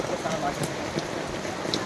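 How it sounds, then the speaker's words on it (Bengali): Heavy rain falls across a village, a steady, close wash of drops pattering on surfaces without pause, with faint voices now and then under the downpour. "গ্রামে অনেক বৃষ্টি হচ্ছে"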